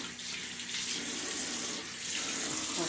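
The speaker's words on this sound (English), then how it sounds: "Washing my hands." Hands being washed under a running faucet at a sink, a steady close rush of tap water with slight splashing throughout, no voices.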